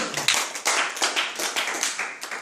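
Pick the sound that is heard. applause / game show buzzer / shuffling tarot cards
applause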